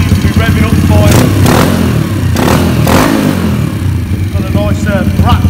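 A Dax Z40 monkey bike with a 140cc engine and an aftermarket camshaft idles and blips its throttle up close, giving a loud, rough putter with sharp rising revs, while someone talks over it.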